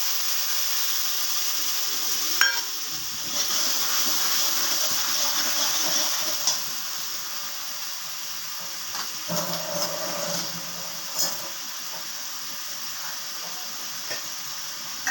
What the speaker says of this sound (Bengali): মশলাটা এবার দিয়ে দিলাম কড়াইতে।